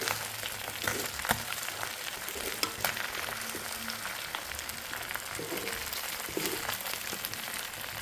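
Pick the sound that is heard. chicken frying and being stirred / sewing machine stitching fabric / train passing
chicken frying and being stirred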